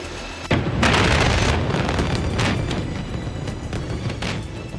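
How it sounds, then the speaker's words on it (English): Fireworks crafted from traditional Thai sticky rice burst over Bangkok's Chao Phraya River on New Year's Eve, a loud, continuous barrage of booms and crackling pops that sustains without pause and carries no voices. "Fireworks crafted from traditional Thai sticky rice illuminate Bangkok's Chao Phraya River on New Year's Eve"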